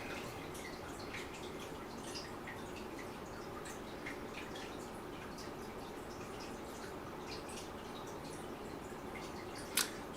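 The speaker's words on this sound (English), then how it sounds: "That's the fish aquarium." Water from a home fish aquarium trickles and drips steadily in the background, a soft continuous patter with scattered small drips throughout and one brief sharper splash near the end.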